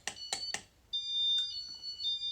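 A Casablanca Panama ceiling fan beeps on start-up: three quick short chirps, then a sustained high electronic tone that wavers and pulses briefly, fairly quiet with no voices.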